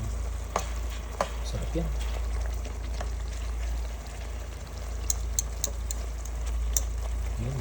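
Chicken barbecue pieces with garlic frying in a pan, a steady close sizzle with occasional scraping stirs, while a voice speaks briefly over the cooking.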